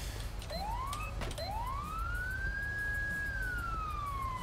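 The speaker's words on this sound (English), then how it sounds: "Okay, well, the siren's on." A police car siren in the GTA V LSPDFR game, a first-person city patrol, winds up twice in quick rising sweeps, then holds a long steady wail over a constant engine and road drone, with no talk.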